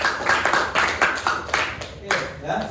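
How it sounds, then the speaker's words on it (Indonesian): Students in a high school classroom clapping in a small group, a few distinct bursts of hand claps at close range with voices mixed in. "Tepuk tangan untuk kalian semua."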